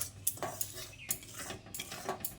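Semolina fried in ghee being stirred in a pan for sooji halwa, with quiet irregular clinks and scrapes of a spoon against the metal, close and soft, at no steady rhythm.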